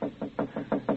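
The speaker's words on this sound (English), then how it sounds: "Knock on door." Six steady knocks on a door, a radio drama sound effect, land in an even rhythm, close and distinct with nothing else around them.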